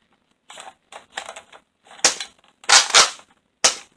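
Nerf Modulus Mediator blaster handled and fired, with several quick mechanical clicks and rattles, then a few sharp, loud snaps spaced apart, close and alone.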